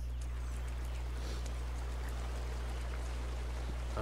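A waterfall in the video game Tiny Tina's Wonderlands trickles and splashes faintly and continuously over a constant low hum.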